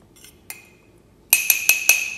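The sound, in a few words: mixing chocolate mug cake batter in mug, clinking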